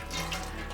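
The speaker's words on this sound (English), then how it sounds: "We have some water directed into the basin." Water pushed by a small hand-pressed air pump from a container runs steadily into a basin in a camper van, a continuous close splashing rush with no talk.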